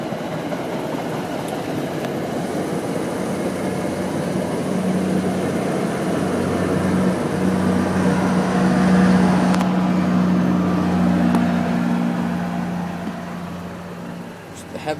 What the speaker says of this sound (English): Excuse the train going by here.